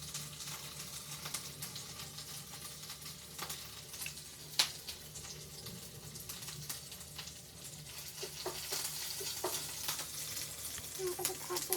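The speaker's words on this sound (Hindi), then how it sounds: "एक्चुअली ऑयल बहुत गर्म हो गया है, इसकी वजह से हम लोग मिर्ची डालेंगे।" Chilies dropped into very hot oil give a soft, continuous sizzle and crackle with scattered clicks and pops, quiet and fairly close, with faint background noise.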